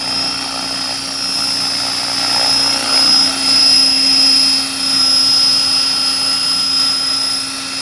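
Close, loud, steady whine and rotor drone of a radio-controlled AH-1 Cobra scale model helicopter hovering on its maiden flight, with a high tonal pitch that swells slightly in the middle and carries on without talk.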